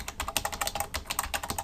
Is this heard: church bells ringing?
no